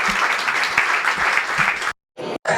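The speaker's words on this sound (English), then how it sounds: "give a huge applause to these guys" Audience at a Bitcoin conference in Barcelona applauds loudly and steadily for nearly two seconds, then cuts off abruptly, followed by a brief burst of sound and another cut.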